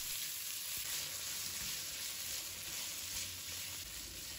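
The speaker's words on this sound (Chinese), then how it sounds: "炒香后，把瘦肉放入锅中炒。" Lean meat sizzles loudly and steadily as it stir-fries in a hot wok with ginger and garlic, a close, continuous crackle with faint stirring and no talk.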